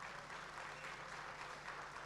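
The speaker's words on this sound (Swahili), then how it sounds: "Tuwapigieni makofi mengi sana" Crowd applause at a televised event, a steady, dense wash of clapping hands that holds at even strength throughout, heard from some distance.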